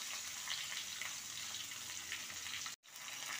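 Chicken fries in a pan on lowered heat, giving a faint, even sizzle and crackle throughout that cuts out briefly near the end before resuming.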